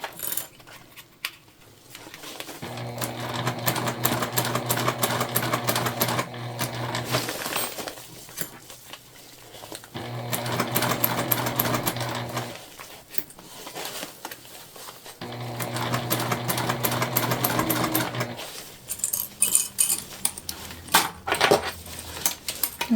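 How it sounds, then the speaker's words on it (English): A sewing machine top stitches a bag with white thread in three long runs of rapid, steady mechanical clatter, close and loud. Short pauses separate the runs, and clicks and handling noises follow the last run. "we're just doing a top stitch here"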